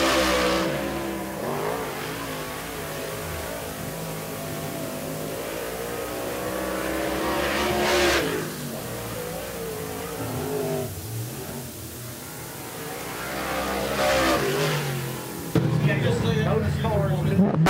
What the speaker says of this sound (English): So Tim Rucker brings it down in car 47.